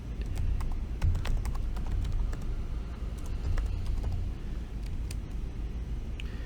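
Steady, quiet clicking of keys on a computer keyboard, continuous irregular taps without speech.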